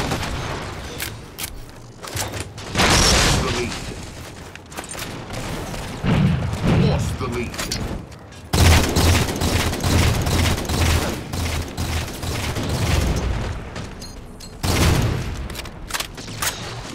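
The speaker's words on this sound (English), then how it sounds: "eat my grenades" During a Halo 4 multiplayer match on a Crimson map, grenades go off in loud booming blasts and bursts of gunfire repeat throughout. Someone talks over the fighting.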